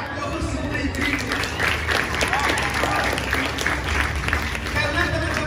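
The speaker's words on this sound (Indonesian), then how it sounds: "Beri aplaus untuk ibu-ibu." Audience applause for the mothers at a workshop: sustained, dense clapping from a crowd in a room, continuous for several seconds with a voice speaking over it.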